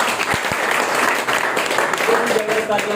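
Audience applause at a company event, a dense sustained clapping roar filling the whole stretch, loud and close, with a few voices mixed in near the end.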